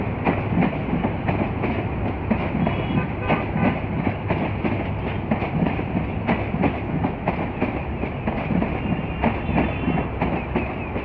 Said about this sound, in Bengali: একা বেকা হয়ে ট্রেনটি কীভাবে এক লাইন থেকে আরেক লাইনে বের হয়ে যাচ্ছে